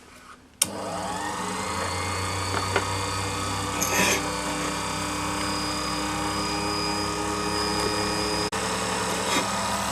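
A rotary tool fitted with a round burr cutting into a jewelry piece for gypsy setting, a steady close high-pitched motor whine held for the whole stretch with a few brief scraping bursts as the burr bites.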